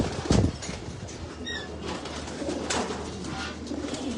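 Racing pigeons coo softly in a loft, with a burst of wing flapping near the start and low, continuous murmuring and rustling throughout; no one speaks.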